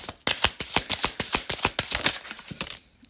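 Rapid riffle of tarot cards being shuffled up close, a quick run of crisp flicking snaps with a few short pauses.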